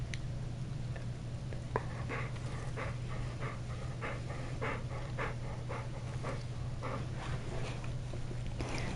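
A dog pants and sniffs right up against a gaming headset mic, quick rhythmic breaths close and steady over a low constant hum, with no talking.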